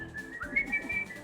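Someone whistles in imitation of a bird: a steady high tone with short warbling, chirp-like flourishes over about a second, fairly faint and close, with no talk.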